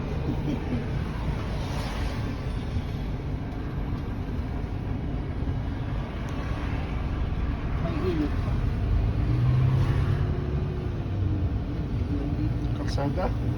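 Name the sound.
road traffic, cars driving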